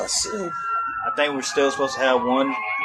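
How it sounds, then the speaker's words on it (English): Sirens wail in the background under steady conversational speech, their rising and falling tone running faintly through the whole stretch while voices talk over them. "Sirens going in the background."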